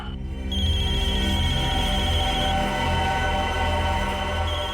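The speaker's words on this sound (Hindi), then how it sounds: "इसमें तो मोबाइल की रिंगटोन जैसा कुछ बजा है।" A mobile phone ringtone plays, a sustained electronic melody of bright tones that starts abruptly and keeps ringing steadily, with no talk over it.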